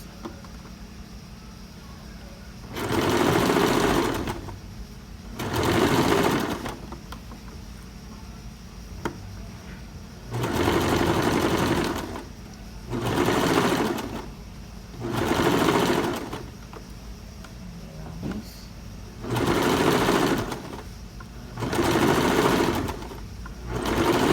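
A sewing machine stitches a blouse seam in about eight separate bursts of rapid whirring, each lasting a second or two, with quiet pauses between them and the work close by.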